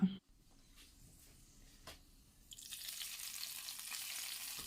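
Hot ghee crackles and sizzles, rising to a steady loud hiss partway through as fried cashews in ghee are poured into a pot of chicken stew.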